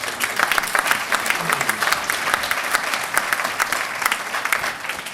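An audience claps steadily at a ribbon-cutting ceremony in Newport News, a dense, loud wash of applause lasting the whole stretch with a little crowd murmur underneath.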